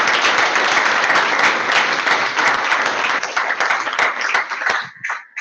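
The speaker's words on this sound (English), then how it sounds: "So that's your applause then." Loud sustained applause from an audience at a political meet-and-greet evening, dense clapping that carries on for several seconds before thinning out near the end.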